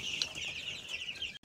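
Four-week-old Bourbonnais chicks chirp and peep continuously in a soft, high-pitched chorus, heard up close on a farm.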